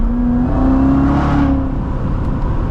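A Corvette C7 Z06 engine roars loud and close from inside the car, its pitch sweeping and shifting through downshift blips in a continuous, throaty drone with no talking.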